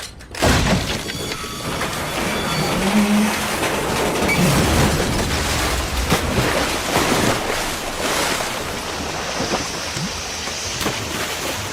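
A steam train crosses a buckling, collapsing bridge in a film scene, bringing a continuous loud roar of rumbling, crashing and hissing, with sharp cracks and shattering bursts throughout.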